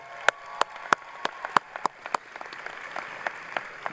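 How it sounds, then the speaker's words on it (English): Scattered applause from a commencement crowd at a University of Central Florida fall graduation ceremony: sharp, separate claps in an uneven rhythm that thin out and grow fainter over a few seconds, with no talk. "So graduates, give them another round of applause."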